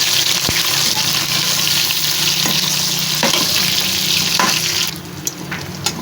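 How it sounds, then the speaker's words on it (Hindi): Spice-stuffed bitter gourds frying in hot oil in a pan, a bright steady sizzle with a few sharp utensil taps, dropping quieter near the end. "इनको अच्छा सा कलर आने तक इनको फ्राई कर लेते हैं।"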